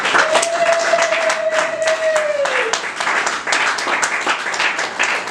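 Church congregation applauding together during a worship service, steady crowd clapping throughout with a sustained tone rising briefly over the noise.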